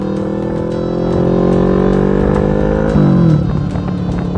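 A 2017 Kawasaki Vulcan 650 motorcycle idles close by with a steady low exhaust burble, then rises briefly in a short rev before settling back to idle.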